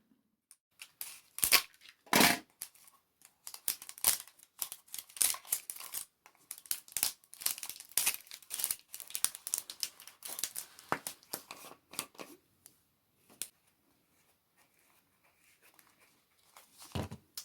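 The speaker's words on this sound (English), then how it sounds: "I'm going to take this plastic off of it" Plastic wrapping peeled off a craft tray: a burst of close, sharp crinkles and tears in irregular clusters, thinning out toward the end with quiet gaps between rustles.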